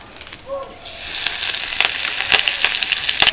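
Curry leaves sizzle and crackle in hot ghee and oil alongside dried red chillies, a bay leaf and cumin seeds, a loud steady frying hiss with sharp pops that swells after a brief quieter start.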